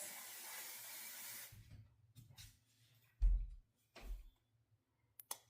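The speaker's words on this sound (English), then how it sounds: "let me spray this." Hairspray misted over freshly curled hair during a curling-wand styling session, heard as one sustained hiss of about a second and a half, followed by a few brief handling bumps and taps.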